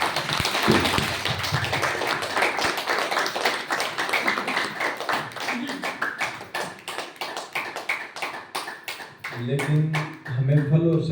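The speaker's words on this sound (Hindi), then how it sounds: "तालियां बजाओ एक बार अपने।" Audience at a spiritual health talk in Hoshiarpur clapping together in a fast, steady rhythm of sharp taps that carries on throughout, with a voice speaking over it near the end.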